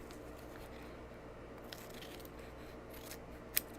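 Scissors trim fusible stabilizer for fabric bags in a few quiet snips over a low steady hum, ending in one sharper, louder cut.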